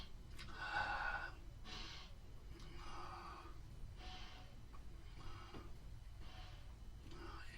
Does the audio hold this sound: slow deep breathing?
yes